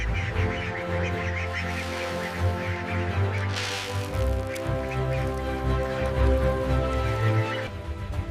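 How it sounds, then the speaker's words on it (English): Day-old mallard ducklings being transferred into hatchery ponds make steady, dense quacking and peeping from many birds at once. The calls are close and continuous, with a machine hum underneath and no talk. "the day-old ducklings are quickly and carefully transferred from their crates into the waiting ponds."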